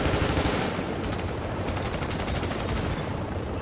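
Loud, dense gunfire crackles in a firefight in The Division, shotgun blasts among rapid shots that merge into a continuous rattling barrage.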